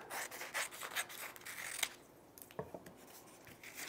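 Scissors cut through paper in a run of soft, close snips and rasping strokes, followed by a quieter pause and a few more scattered snips and rustles.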